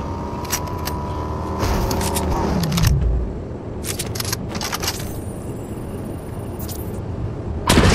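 A car engine revs and pulls away in a shooter video game, a loud rising rumble that fades into background noise, with sharp clicks and bangs scattered throughout.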